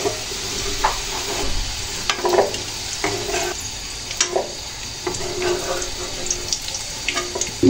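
Fried potatoes are lifted out of sizzling hot oil with a ladle, a steady crackling fry hiss running throughout, broken by repeated soft scraping and clinking strokes of metal against the pan, close and moderately loud.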